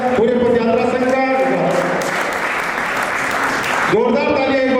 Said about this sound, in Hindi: एक बार जोरदार तालियां बजाकर आप अनुमोदन करें भाई सुभाष जी और उनकी पूरी टीम का, पूरे पदयात्रा संघ का।